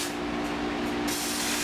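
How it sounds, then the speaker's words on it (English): Butter spray hisses from a can onto a cooking pan in one continuous, close burst, loud and steady throughout, its pitch shifting slightly partway through, with no voice over it. "As you know, I love to use butter spray. So I'm spraying the pan."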